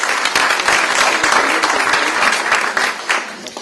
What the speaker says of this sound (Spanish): Un aplauso, por supuesto,